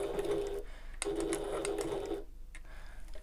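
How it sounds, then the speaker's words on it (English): A sewing machine stitches along a marked line on a Ben Bag, running in two steady bursts of rapid mechanical whirring with a short pause between and a quieter stretch at the end. "I'm sewing directly on the line now"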